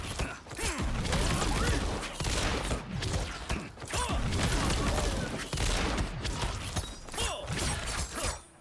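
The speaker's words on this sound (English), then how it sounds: "we can actually cover ourselves with these Stryker bombs" Stryker bombs bursting in Mortal Kombat 1, a rapid loop of loud crackling blasts and shattering hits stacked one after another, dense and continuous with brief dips between volleys.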